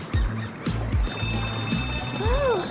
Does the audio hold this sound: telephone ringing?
yes